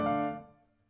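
A single dry piano note or chord struck once, ringing out and decaying within a second with no echo, played alone at a moderate level.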